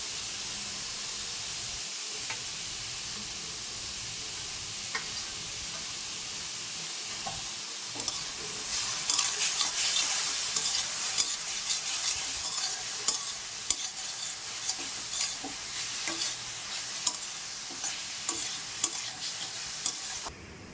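Salt, turmeric and chopped green chilli frying in a pan for Kolkata street-style vegetable chops, a steady sizzle that grows brighter and louder halfway through, with scattered stirring clicks and no voices.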